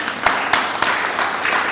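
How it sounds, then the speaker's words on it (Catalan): A theatre audience applauds steadily, dense clapping from many hands filling the short moment at a fairly loud level. "un aplaudiment"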